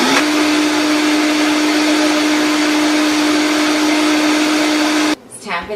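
A blender whirs steadily and loudly through a vegan chocolate smoothie, holding one strong constant motor tone, then cuts off abruptly near the end, leaving a brief clatter and quieter handling.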